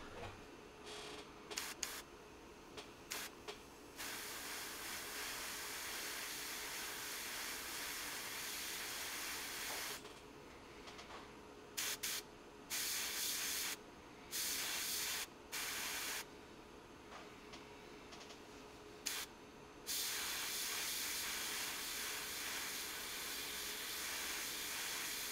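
Steady spraying hiss of an airbrush spraying chrome paint onto a P-40F Warhawk model, running almost continuously, broken by a few brief pauses and short bursts, close and fairly loud.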